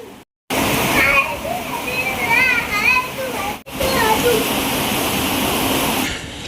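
Heavy rain pours outside in a steady roar while children play and shout nearby, their voices riding over the downpour, with a couple of brief cuts in the recording.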